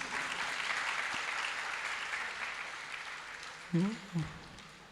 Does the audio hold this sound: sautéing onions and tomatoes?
no